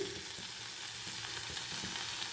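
Capsicum frying in a pan with turmeric powder, a continuous close hiss of sizzling oil with faint stirring, no voices.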